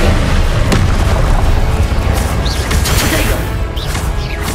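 An Incendio fire spell is cast in Hogwarts Legacy, a loud roaring burst of flame with a crackling, booming wash and a few brief whooshing effects, with no speech.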